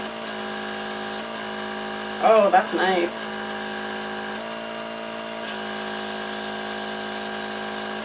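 A continuous, close motorized buzz with airy hiss from a Crayola Air Marker Sprayer running steadily; a voice makes a short remark partway through.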